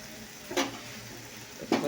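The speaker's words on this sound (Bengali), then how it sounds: "এবার আমি এটাকে মশলা দিয়ে কষবো।" Meat frying with spices in a pan, a steady close sizzle broken by two louder bursts of scraping and stirring.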